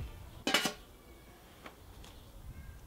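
A metal lid set onto a Cobb Compact portable cooker gives one short clattering clink, followed by a couple of faint knocks in a quiet space.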